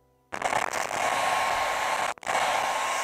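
A hair dryer switches on and blows steadily at close range to quickly dry paint on a He-Man Snake Mountain toy playset, with a brief dip in airflow near the end before it resumes.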